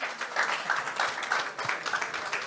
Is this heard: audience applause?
yes